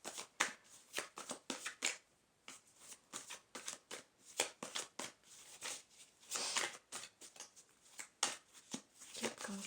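A deck of oracle advice cards is shuffled again and again, a fast crisp riffle and flutter of cards close by, coming in repeated bursts with short gaps and no speech over it.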